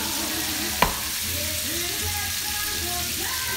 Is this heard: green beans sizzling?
yes